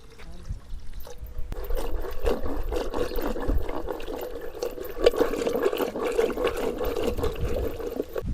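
Water is poured into a cooking pot of dal seasoned with turmeric, coriander-cumin powder, salt and chili, making a steady close trickling splash for several seconds.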